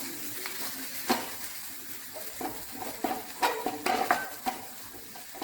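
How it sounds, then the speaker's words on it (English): Boiled, mashed chana dal stuffing being mixed: close, irregular scraping and clinking strokes of a utensil against the vessel, with a faint sizzle in the background and no talking. "Now I will be putting the chana dal to it. Boiled and mashed chana dal to it. I'll just mix it."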